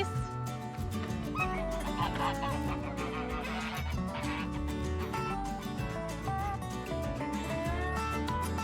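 A flock of American Buff geese on a farm in winter honks continuously, overlapping calls rising and falling in a busy, close chorus with no talking.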